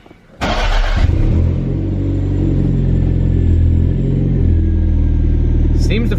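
Toyota MR2 engine cranks and fires up abruptly, then settles into a steady, close, rumbling idle that runs on without a break, with a faint click near the end.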